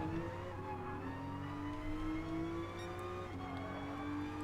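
Race car engine at Laguna Seca in Gran Turismo Sport, a steady, loud whining drone with pitch shifting between gears, heard alone without talk.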